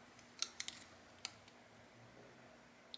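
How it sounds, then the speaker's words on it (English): Sharp hair-cutting shears snip through hair with a few crisp, close metallic clicks spaced apart in a quiet room. "So let's see how they cut hair."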